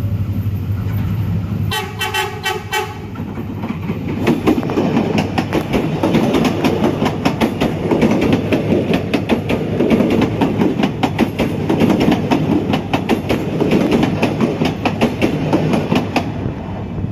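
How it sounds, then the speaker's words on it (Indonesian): A train passes close by near Gambir at rail crossing JPL 31, opening with a sharp horn toot, followed by loud continuous clickety-clack of wheels and rumble as the cars roll past. "Inilah kereta pertama yang melintas."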